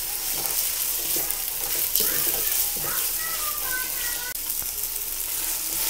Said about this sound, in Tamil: இஞ்சி பூண்டை போட்டு நல்லா இஞ்சி பூண்டோட ஸ்மெல் மாறுற வரைக்கும் வதக்கிக்கலாம்